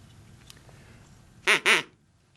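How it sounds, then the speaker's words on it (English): A duck, presented as a bath-time sound, gives two loud, close quacks in quick succession after a quiet stretch, with nothing else heard around them. "What makes that kind of sound? A duck."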